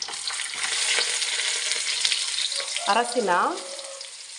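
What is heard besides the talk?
frying raisins, cashews, peanuts and onion in oil or ghee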